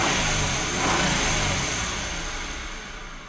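A car engine with a faulty idle turns over and runs, a steady close engine drone that swells briefly and then eases toward a lower, softer idle.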